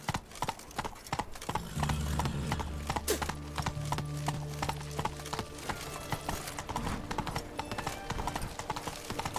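Hooves of the horse Roach in The Witcher 3 clip-clop in a quick, regular trot, close and clear, with a low drone swelling beneath the footfalls partway through.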